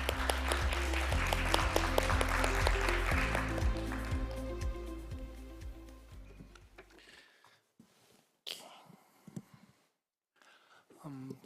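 Audience at an international food security symposium applauds to welcome a forest science professor, a loud dense patter that fades after about six seconds, followed by a few scattered claps and a faint voice.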